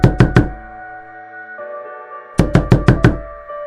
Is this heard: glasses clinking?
no